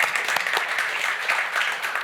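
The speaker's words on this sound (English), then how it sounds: "So round of applause for Peyton." An audience claps steadily in a dense, continuous burst of applause for Peyton Manning, filling the short stretch with sustained crackling hand claps and no talking.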